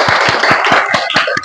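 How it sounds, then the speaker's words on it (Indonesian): A small group claps together in a studio, a steady, even run of about nine sharp claps over a second and a half, heard up close with nobody talking. "Boleh beri tepuk tangan?"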